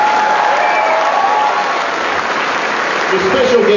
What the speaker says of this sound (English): if I get a huge round of applause for the creators of Robot Chicken